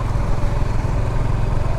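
Five motorcycles carrying ten riders travel together along a green rural road, a loud, close, steady engine drone with a rough, fluttering texture and no speech.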